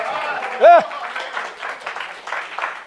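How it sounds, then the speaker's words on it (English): Scattered audience clapping at a stand-up comedy show, a loose patter of hands with a shout or laughing voice rising briefly early on, voices murmuring throughout. "you can give a hand also, a clap"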